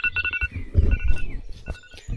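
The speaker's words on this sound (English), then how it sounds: "that's literally my phone alarm going off" A phone alarm chimes at a wild campsite on the pingo trail early in the morning, thin repeated tones sounding over rustling and low handling noise.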